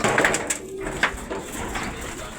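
A racing pigeon coos softly just after arriving home from a sprint race, low murmuring calls close by amid faint background noise and brief clatter.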